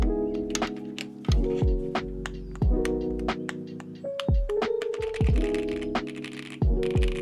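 Typing on an ASUS Azoth Extreme high-end custom keyboard with pre-lubed switches: a steady run of close, crisp keystrokes with deeper thocky bottom-outs and occasional heavier presses, heard alone.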